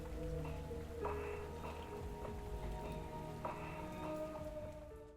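Steady rain falls during a thunderstorm, a continuous dense patter on surfaces with occasional brighter drips, heard alone at a low level.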